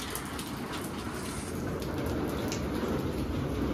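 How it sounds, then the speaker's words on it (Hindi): Steady rain falling in Manali, a dense, even hiss of drops on surfaces, close and continuous with no voices. "पहले तो ये देख लो बारिश हो रही है यहाँ।"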